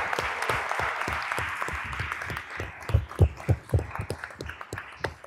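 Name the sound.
audience applause for panelists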